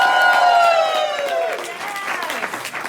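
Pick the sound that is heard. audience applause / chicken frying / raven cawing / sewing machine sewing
audience applause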